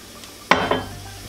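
A spoon mixes organic mild salsa and beefless crumble in a pan, two quick scraping clinks in a short burst over faint background hiss.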